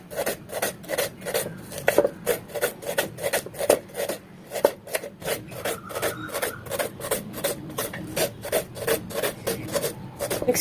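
A knife slicing onion lengthwise on a cutting board for a Tamil onion salna, making a fast, even series of close, crisp chopping strokes that runs steadily throughout.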